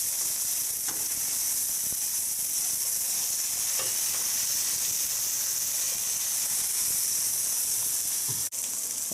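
Cheeseburger patties sizzle on a griddle in a loud, constant hiss, with scattered spatula taps and a sharp clack near the end.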